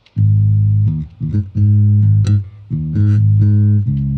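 A bass guitar with low frequencies boosted around 90 Hz plays loud, sustained low notes with a heavy, boomy low end, in a simple rhythmic pattern with brief gaps.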